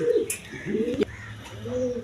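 A pigeon pair sitting together on two eggs gives soft, close coos in a few short phrases, with a sharp tap or rustle in between.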